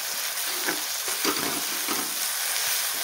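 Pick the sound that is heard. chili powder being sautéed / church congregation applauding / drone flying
chili powder being sautéed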